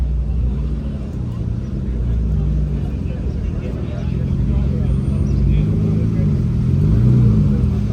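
A Lotus Evora sports car's engine rumbles low and steady close by as it pulls in, rising slightly near the end, with people talking over it.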